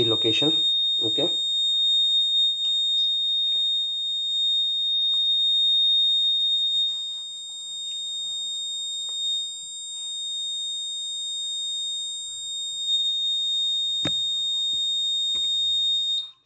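A fire alarm buzzer on an Arduino-based fire detection system sounds a steady, loud high-pitched tone throughout, under a few brief bursts of talk and clicks near the start.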